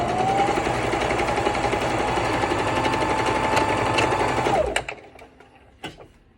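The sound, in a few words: sewing machine stitching a face mask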